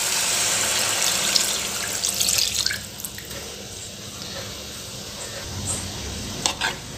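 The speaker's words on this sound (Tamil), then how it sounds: "இந்த தேங்காய் பால் அப்படி மேலாட்ட ஊற்றிடலாம்." Coconut milk is poured over a fish curry in a pan, giving a steady liquid splashing and pouring hiss that thins into soft bubbling and small drips.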